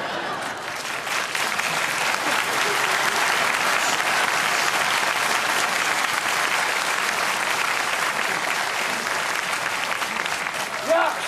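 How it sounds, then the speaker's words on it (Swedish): Audience at a 1994 Fredriksdalsteatern outdoor-theatre performance of Soldat Bom breaks into sustained, dense applause, loud and steady for about eleven seconds with no voices over it. "skön applåd av publiken"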